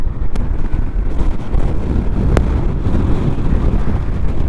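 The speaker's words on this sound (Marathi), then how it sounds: "इथे एवढी हवा आहे ना की मी बाईक चालू पण नाही शकत आहे" Strong monsoon wind buffets the microphone continuously during a motorbike ride on Kasara Ghat near Igatpuri, a dense low roar with gusty surges and no speech.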